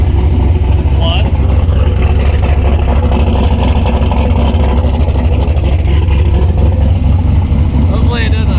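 A ported-intake LS2 V8 in a turbocharged, nitrous-equipped Mazda Miata idles shortly after a cold start, a steady loud low rumble running throughout with faint voices underneath.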